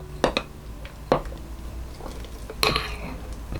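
Flour stirred into about 200 g of makgeolli liquid in a bowl to make a sourdough starter, heard as a few sharp utensil clinks and scrapes against the bowl spaced over a few seconds.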